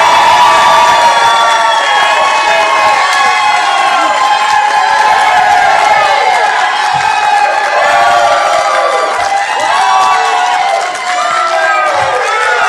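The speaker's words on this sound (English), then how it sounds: "the one and only time to show your appreciation with applause" A large crowd at a New Jersey Republican gubernatorial debate cheers and whoops loudly and continuously, with shouts layered over sustained applause.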